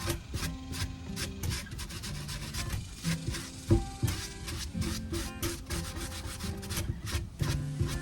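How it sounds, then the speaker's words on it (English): Rapid, rhythmic rasping of sandpaper scraping back and forth over soft, shredding driftwood, close and continuous with brief pauses between strokes. "If I keep sanding, it's just gonna keep shredding it."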